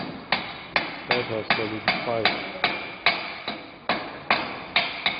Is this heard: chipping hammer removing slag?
yes